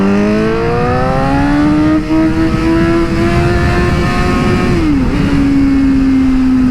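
A Suzuki GSX-S 750 motorcycle engine accelerates hard and close, its loud, steady whine climbing in pitch before a brief dip at a gear change, then holding high again.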